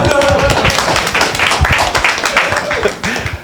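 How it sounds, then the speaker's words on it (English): Church audience clapping briefly at a live gathering, scattered claps mixed with voices and laughter close by, fairly loud and uneven. "He needed applause."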